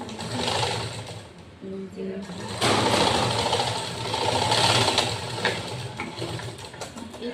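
A sewing machine stitches a lined blouse with a patti border, running steadily with a close mechanical whir and rattle that shifts pace, and a voice talking over it.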